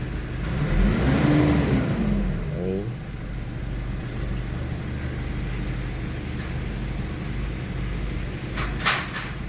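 Engine of a 2020 Nissan Navara with 57K mileage, serviced for EGR valve and turbo cleaning, idling steadily with a low rumble and a brief rev near the start, heard close up in a workshop.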